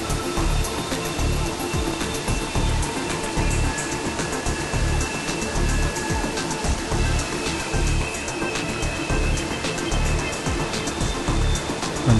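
Waterfall at Hanging Lake, heard from the walkway behind the falling water: a loud, steady roar of pouring and splashing water fills the whole stretch without a break.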